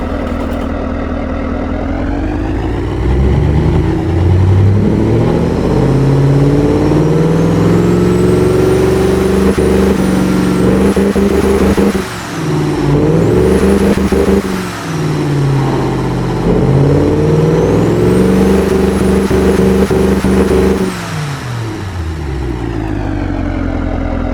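Engine in the Automation car-building game revving up and holding high, with rising and falling harmonic tones across a sustained loud run, two brief dips midway before settling back to idle; no talking.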